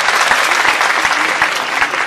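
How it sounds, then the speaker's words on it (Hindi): A crowd gathered for a coaching academy branch opening ceremony in Chhindwara applauds loudly and steadily, a dense, even wash of clapping that fills the whole stretch without pause. "एक बार जोरदार ताली बजाएं अंकिता के लिए।"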